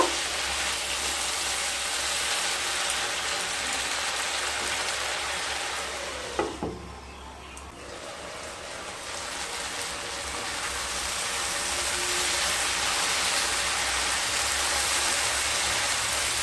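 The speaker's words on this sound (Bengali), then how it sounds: "এবার সমস্ত উপকরণগুলোকে খুব ভালোভাবে মিশিয়ে কষিয়ে নেব" Soybean chunks, onion, capsicum and tomato sauté in a pan, giving a steady loud sizzle and hiss like rain, with a brief dip and a scrape of stirring in the middle.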